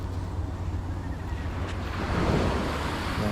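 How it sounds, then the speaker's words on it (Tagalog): Sea waves wash onto the beachfront in La Union in a steady, moderate surf wash that swells slightly louder toward the end, with light wind and no talking. "agos ng tubig mula sa dagat"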